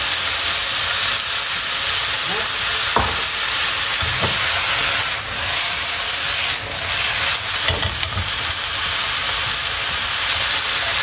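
Shallots added to a hot pan of mushrooms and gizzards give a loud, continuous hissing sizzle, with a few soft knocks and stirs on top.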